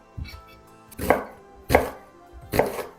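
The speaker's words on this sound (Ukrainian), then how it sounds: "Цибулю наріжу півкільцями." A knife chops an onion into half rings on a board: four crisp, separate chops spaced a little under a second apart, close and clear with no talk.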